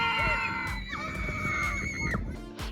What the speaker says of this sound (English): A lot of them were recorded on set, so all the screaming of the children.